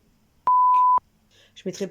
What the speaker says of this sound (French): J'ai mis un bip parce que ça se dit pas.